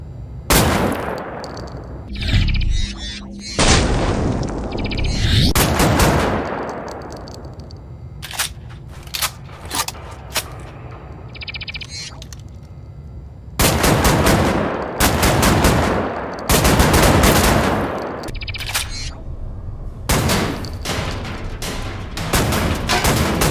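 Shotgun firing in a Wolfenstein first-person shooter game, loud booming blasts in irregular bursts, some spaced apart and others rapid, each with a ringing tail, plus mechanical clicks and reloading clatter between shots.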